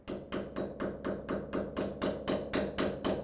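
Metal-on-metal hammering drives a screw extractor into a hole drilled in a Phillips head screw: about ten sharp, evenly spaced strikes in quick succession, close and loud, with no talking.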